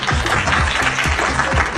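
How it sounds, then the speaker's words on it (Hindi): Brief burst of close, loud applause from a small group at a party, dense clapping throughout with no voices standing out. "नहीं, तुम ये अप्लॉज डिजर्व करती हो"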